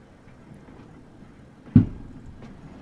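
A single loud firework bang bursts out once, close and sharp, then fades against a quiet, low background hum.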